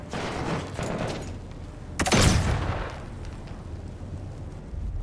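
Gunfire in the video game Call of Duty: Modern Warfare: scattered shots early, then a loud, sharp blast about two seconds in that rumbles away into a steady background din.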